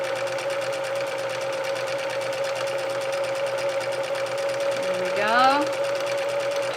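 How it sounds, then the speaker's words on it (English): A roughly 30-year-old sewing machine runs fast in a steady, rapid mechanical whir and clatter that continues throughout, with someone speaking briefly over it near the end. "I'm going to go pretty fast. That's as fast as this machine will go."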